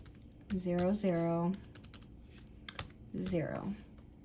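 Keys on a computer keyboard clack in short, sparse bursts of typing, with a couple of brief hummed or voiced sounds drifting in between the clicks.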